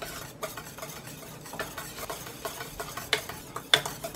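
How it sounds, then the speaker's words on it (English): A spoon stirs lemon curd in a pot on the stove, making a steady run of soft scraping strokes close by, with faint sizzling from the heat. "After it boils, you're gonna stir it for 1 more minute."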